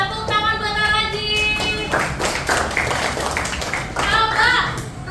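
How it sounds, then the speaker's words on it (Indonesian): Classroom applause for a young pupil, a burst of hand claps and taps mixed with children's voices and chatter throughout. "Tepuk tangan buat Raji."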